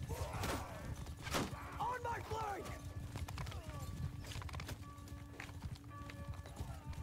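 Horses gallop in a battle in the video game Mount & Blade II: Bannerlord, with rapid clip-clop hoofbeats and occasional whinnies under someone talking.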